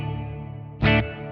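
Sustained guitar tone with a dense effected swell through a Blackstar St. James EL34/6L6 tube amp plugin, set to a long plate reverb; a brief brighter burst near the end, then a lingering smeared tail.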